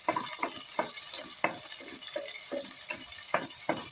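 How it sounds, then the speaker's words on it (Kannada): Capsicum roasting in an oil and ghee tempering sizzles throughout, with a regular rhythm of close scraping stirs across the pan. "ಫಸ್ಟು ಕ್ಯಾಪ್ಸಿಕಮ್ ಸ್ವಲ್ಪ ರೋಸ್ಟ್ ಮಾಡಬೇಕಲ್ಲ. ಎಣ್ಣೆಗೆ ತುಪ್ಪಕ್ಕೆ ಹಾಕ್ತಾಯಿದ್ದೀನಿ ಇದನ್ನು ಒಗ್ಗರಣೆಗೆ."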